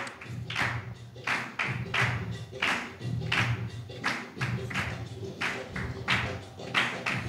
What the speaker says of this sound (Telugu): చేతులు జోడించి చప్పట్లు కొడుతూ